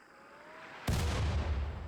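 A single mortar shot fires in the video game RimWorld, a sudden heavy boom breaking a quiet hum and trailing off into a rumbling echo.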